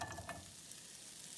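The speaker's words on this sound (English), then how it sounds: "You should be hearing a sizzle here." A brief burst of broccoli and carrots sizzling in a hot pan, with a soft wooden-spoon stirring scrape and crackle, fairly close and steady.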